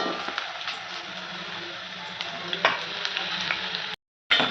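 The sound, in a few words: onions frying in pan for homemade Maggi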